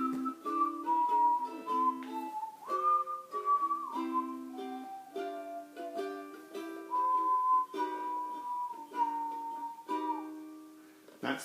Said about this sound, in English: we start with the intro, which sounds with the little whistle like this